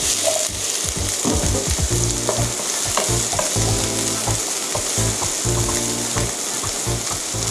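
Vegetables stir-fried for udon with crab sticks sizzle loudly and steadily in a hot pan, with repeated scraping and tossing of the spatula throughout and no talking.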